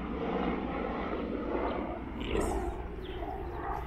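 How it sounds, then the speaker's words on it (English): A distant aeroplane drones steadily overhead in a rural Kenyan village, a low continuous hum beneath someone speaking. "I don't know if you can see that aeroplane."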